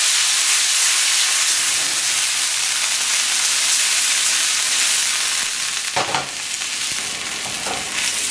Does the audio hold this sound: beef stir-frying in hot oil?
yes